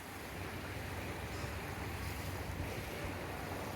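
Faint, steady wash of waves and surf outdoors by the water, a continuous soft roar mixed with wind, with no other sounds standing out.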